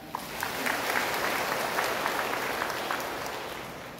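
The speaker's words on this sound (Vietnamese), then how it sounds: "xin chúc mừng và đón chào cha bằng một tràng pháo tay" A church congregation claps in welcome of a new parish priest, a steady round of applause that swells and then slowly fades, fairly soft and somewhat distant.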